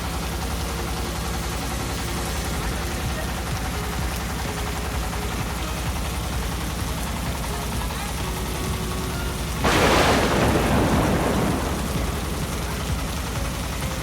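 Continuous rain hisses over Kaptai Lake, with a low engine hum beneath it. Near the ten-second mark a broad, loud rumbling burst like thunder swells and fades over a couple of seconds.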